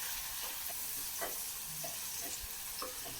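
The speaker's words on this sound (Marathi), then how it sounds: "आता टॅमॅटो पण आपल्याला चांगला मऊ शिजवून घ्यायचा आहे." Tomatoes simmer and sizzle steadily in a pan until soft for Maharashtrian pomegranate rice, with occasional soft scrapes and taps of a stirring spoon over a constant hiss and no voices.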